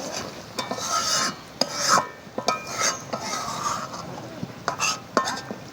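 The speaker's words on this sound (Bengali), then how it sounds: "একটু নেড়ে আমি নামিয়ে নেব।" Tamarind crab curry being stirred in a pot, a rasping scrape of a spoon against the metal repeating in uneven strokes with sharp clinks, close and fairly loud, with no voices.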